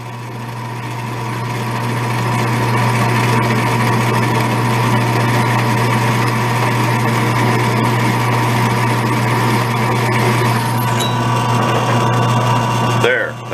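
Steady, loud whine of a drill press driving a 1/2-inch drill bit into punch-marked metal, running continuously with a constant motor hum and slight rise in intensity as it cuts.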